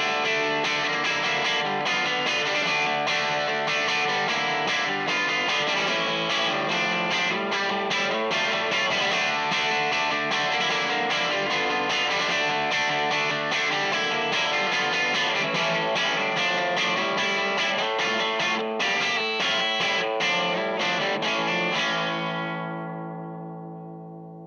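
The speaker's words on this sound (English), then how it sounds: "we'll just have a look at the Vox AC30 channel, and we'll add a bit of spring reverb to that." Electric guitar played through the Vox AC30 channel of a Vox VXII modelling amp with spring reverb, a continuous run of chords and notes with crunchy drive that rings out and fades at the end; no talking.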